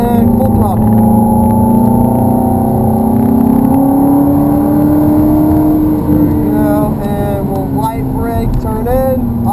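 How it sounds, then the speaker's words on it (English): A Ferrari 430 accelerating at full throttle on a track, the engine roaring loud and close as its pitch climbs steadily, then drops briefly near the end and climbs again. "we'll accelerate through and full throttle"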